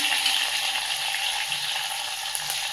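Steady, bright sizzling of large onions frying in hot oil, close and continuous, with no voices.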